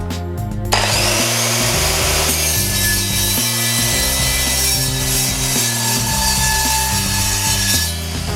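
An Evolution EVO230 steel-cutting circular saw spins up and cuts through steel bar stock, a loud, steady grinding whine with rhythmic shifts in load as the blade bites through the metal, heard alone without talk.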